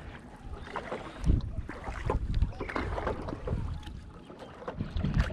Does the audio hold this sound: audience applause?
no